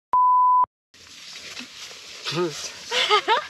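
An ice fishing bite alarm on Lake Peipus narrows gives one clear, steady electronic beep lasting about half a second, followed by outdoor ambience and people talking.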